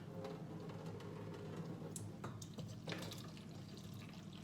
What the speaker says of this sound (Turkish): Bir de soğuk su doldurun tencerenize makarnanın üstüne bir daha yıkayın.